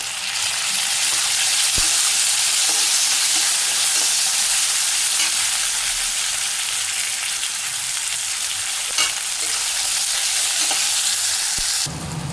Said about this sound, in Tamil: தக்காளி, வெங்காயம், இஞ்சி பூண்டெல்லாம் நல்லா வதக்கியாச்சு